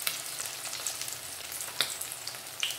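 Batter-coated prawns deep fry in hot oil, Kerala style, giving a steady close crackling sizzle with scattered sharper pops throughout.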